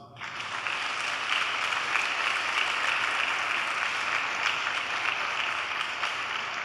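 A church congregation claps together in a loud, steady, full-room burst of applause that holds evenly for several seconds.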